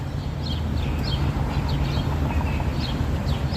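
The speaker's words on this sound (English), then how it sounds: "Yeah, the birds sound happy, right?" Small birds chirp in brief, repeated high calls outdoors over a loud, steady rumble of city background noise.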